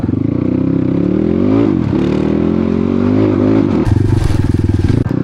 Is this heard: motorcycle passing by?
yes